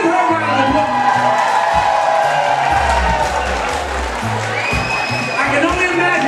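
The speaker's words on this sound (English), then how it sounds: "give her a round of applause" A comedy-show audience cheers, whoops and claps in a steady loud wash of crowd noise, with a voice talking over it.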